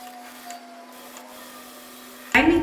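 A sewing machine stitching around the lining of a garment sleeve starts up as a sudden loud, short mechanical burst near the end, after a long stretch of quiet room hum.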